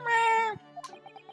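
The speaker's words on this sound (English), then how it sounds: "Oh, look, it's Wagahai." Wagahai the cat from The Great Ace Attorney gives one long, clear, drawn-out meow, followed by a string of short soft chirps and mews from the same game cat.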